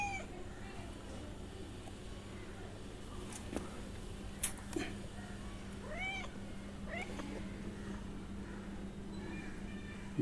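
Pregnant cat meowing several times, rising and falling calls over a constant low hum and background noise, moderately close, with no talk.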